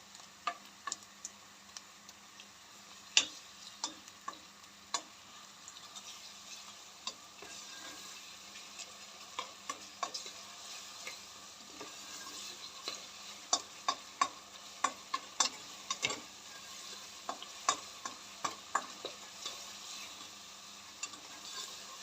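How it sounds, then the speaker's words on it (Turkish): Tomato paste sautéing in a pan for a chickpea, lentil and spinach dish, a steady soft sizzle with frequent scraping stir clicks and ticks as a spoon works it, alone with no voices. "şimdi salçamın kokusu çıkana kadar kavuracağım"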